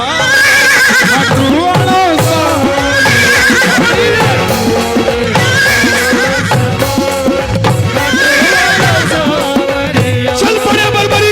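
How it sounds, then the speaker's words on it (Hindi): Loud horse neighs and whinnies repeat in a rhythmic cycle over a busy backing of music or effects, each call rising and falling, continuous and close throughout. "घोड़े"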